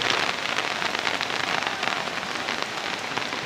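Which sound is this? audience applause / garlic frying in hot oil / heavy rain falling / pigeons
heavy rain falling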